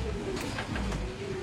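A German Beauty Homer pigeon coos softly in short repeated phrases, close by, against a steady low background hum.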